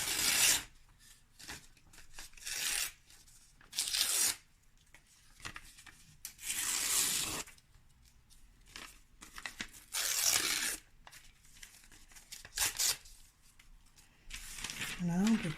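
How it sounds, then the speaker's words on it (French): Paper being torn by hand into thin strips for papier-mâché, a series of close, loud ripping bursts about every two seconds with quieter rustling in between. "Tu essaies de découper des bandes en tirant comme ça, tout droit vers le bas."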